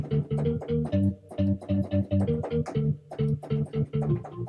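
Two Akai MPC sequences play together as one layered beat, with steady punchy drum hits and looping tonal bass and chord stabs repeating through a four-bar pattern, loud and close with no talking.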